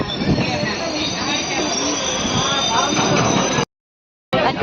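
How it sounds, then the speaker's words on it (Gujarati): Train pulling out of Khakheda railway station in Gujarat, India, its wheels rumbling and squealing loudly and steadily under voices before a short dropout. "ખાખેડાથી આપણી ગાડી ઉપડી ગઈ છે"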